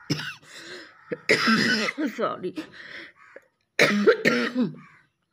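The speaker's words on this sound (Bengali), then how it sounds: "সরি কাশি উঠে গেল, এমনি উঠলো কাশিটা" A person coughs and clears their throat in a couple of harsh, close bursts, with voiced sounds in between.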